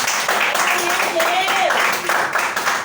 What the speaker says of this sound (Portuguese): Vamos saudar o Senhor do Senhor com palmas.